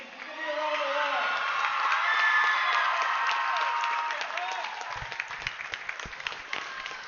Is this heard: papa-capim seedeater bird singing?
no